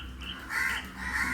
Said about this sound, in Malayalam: ഇനി ആ അല്ലാത്ത കാക്കകളെ കൂടി വിളിച്ച് വരുത്താൻ വേണ്ടിയിട്ട് പനിച്ചേട്ടൻ്റെ ഒരു ട്രിക്ക് കാണിച്ചത്.